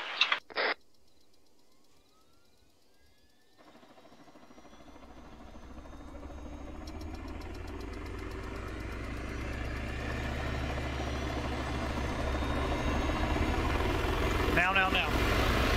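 A helicopter engine in Arma 3 spools up from near silence after a couple of sharp clicks, a low turbine whine and rotor drone swelling steadily louder and denser over about fifteen seconds until it fills the scene.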